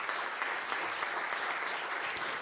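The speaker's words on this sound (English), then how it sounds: "Please give her a big round of applause." Steady applause from a crowd at an International Day of Yoga award ceremony, a dense even patter of clapping that holds at constant level throughout.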